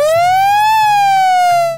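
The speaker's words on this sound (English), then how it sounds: "These are all my sirens." A loud electronic siren wails in a smooth rising and falling sweep, close by, with faint low thumps underneath and no talking.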